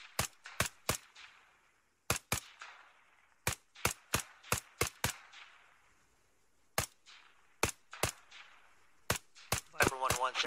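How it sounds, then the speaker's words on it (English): Gunfire from target shooting in a military simulation video game, with sharp, loud single shots spaced irregularly, sometimes in quick pairs or clusters, each followed by a short echoing tail. "Will you stop shooting our targets?"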